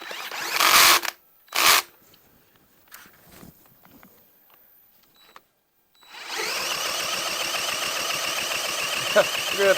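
A Honda CT70 motorcycle engine catches and settles into a steady, close idle after a few loud cranking bursts and scattered clanks, running continuously to the end.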